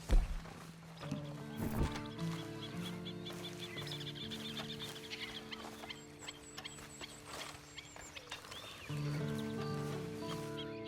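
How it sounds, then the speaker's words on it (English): Horse sounds in the Red Dead Redemption 2 video game, with hoof clip-clop and animal calls set against a layered game music score, moderately loud with a sharp thud at the start. "Then you better get on this horse."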